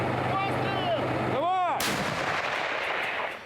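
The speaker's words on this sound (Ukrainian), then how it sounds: "Осколкові фугасні снаряди летять у темряву." A single heavy artillery boom cracks out as a high-explosive fragmentation shell is fired into darkness, followed by a fading rumble and an outgoing whistle as the shell flies away.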